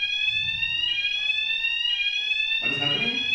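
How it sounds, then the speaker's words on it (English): A fire alarm sounds inside a conference hall during a technical talk, its loud piercing electronic tone repeating in steady cycles, with a voice briefly audible underneath. "setting up a fire alarm is not enough to cancel Frontend session"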